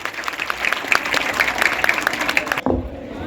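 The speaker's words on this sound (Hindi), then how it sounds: "ताली बजा करके एक बार जोरदार अभिनंदन" A crowd at a religious assembly in Vrindavan claps warmly and steadily for nearly three seconds, the dense applause stopping abruptly.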